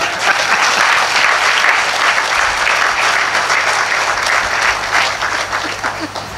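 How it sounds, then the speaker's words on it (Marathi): A church congregation claps together in sustained, dense applause that fills the hall, steady and loud throughout with a faint murmur of voices underneath. "अरे टाळ्या का नाही वाजवत तुम्ही?"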